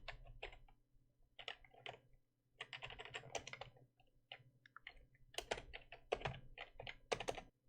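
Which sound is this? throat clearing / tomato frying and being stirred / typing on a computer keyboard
typing on a computer keyboard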